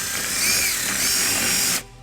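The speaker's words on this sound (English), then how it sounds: "using a 3/16 drill bit" A power drill with a 3/16 bit bores a hole during a wiring harness install on a 2016 Nissan Murano, a loud steady whirring burst lasting under two seconds before cutting off abruptly.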